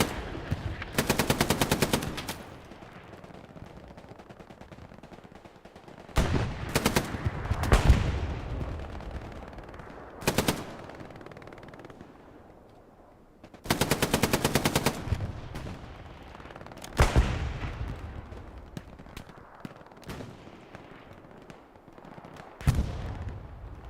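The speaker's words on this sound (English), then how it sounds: "Nice crossfire MG position here from Jichen." Machine gun fire in the video game Hell Let Loose, Foy map battle: several loud, sustained automatic bursts of rapid shots separated by quieter stretches with distant rumbling gunfire, no talk.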